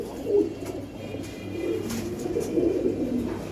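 Silver pigeons coo inside a loft, a dense low burbling chorus of several birds that swells and fades in waves, close by and fairly loud, with no talking.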